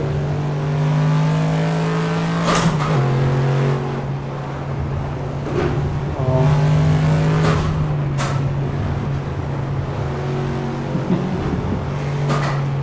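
A car engine at full throttle on the Nürburgring, a loud sustained droning roar heard from inside the car, with several shifts in pitch and a few sharp clicks, no talk over it.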